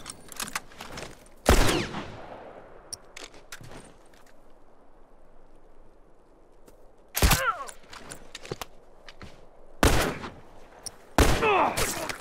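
Rifle gunfire in The Last of Us, a lakeside fight, bursting out in loud, separate cracks with ringing tails, spaced over a quieter stretch of footsteps and faint room tone.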